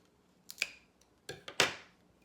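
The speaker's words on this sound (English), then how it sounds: "So I'm going to take my scissors" Scissors snip through a plastic drinking straw being trimmed for a homemade pan flute, giving a few sharp close crunching cuts, two quick ones and then a firmer final snip, with quiet between.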